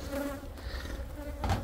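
Honeybees buzz around a hive during a summer apiary inspection, a close, continuous droning hum that swells and fades as individual bees pass near, with a louder surge toward the end.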